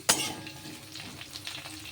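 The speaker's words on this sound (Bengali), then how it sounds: "তার মধ্যে আলুগুলো দিয়ে ভাজতে দিয়েছি" Diced potatoes fry in mustard oil with black cumin, dried chillies, a green chilli and chopped onion. The hiss is steady and close, opening with a sharp burst and carrying light stirring scrapes.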